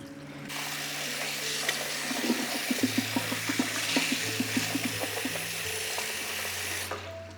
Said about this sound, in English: rinsing your rice pretty well